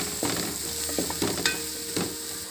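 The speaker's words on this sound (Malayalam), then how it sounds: "കുറച്ച് ഉപ്പിട്ട് കൊടുക്കാം. എന്നിട്ട് നമുക്ക് നല്ലപോലെ ഇതൊന്ന് വഴറ്റിയെടുക്കാം." Chicken curry ingredients sauté with salt in a pan for a coconut-milk chicken curry. A steady sizzle runs throughout, broken by several scraping stirs with a spoon, close and moderately loud, with no talking.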